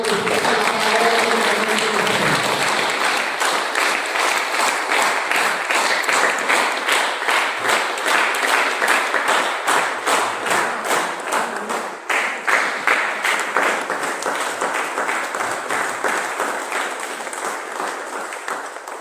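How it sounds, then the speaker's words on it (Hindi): Loud, sustained applause from an audience at a boss's birthday celebration at the Arihant Milk Products Unit 2, dense clapping filling the whole stretch and easing slightly toward the end. "जोरदार तालियां हो जाए दोस्तों।"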